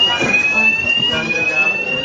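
Steady high electronic fire alarm tone sounding continuously in an office building on a trading floor, loud and unbroken with faint background murmur.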